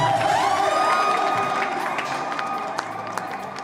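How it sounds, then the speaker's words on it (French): A crowd cheers loudly at a luxury wedding in a dense, steady roar with a few whistle-like tones and scattered shouts. The cheering stays close and fades slightly toward the end. "Acclamez très fort pour le Nigeria."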